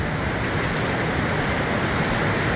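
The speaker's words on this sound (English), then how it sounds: "oh yeah, good rain, good rain." Heavy rain pours off a farmhouse roof on a sheep farm in the evening, a loud, dense and continuous wash of water with no pauses.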